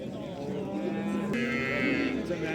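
A cow at the Ganja livestock market lets out a long, loud low moo, close by, over a constant crowded bazaar din.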